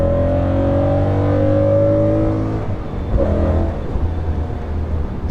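A BMW E92 M3 with an Akrapovic Evolution exhaust revs loudly up close, holding a steady high rev before dropping and settling into a rougher, lower engine note.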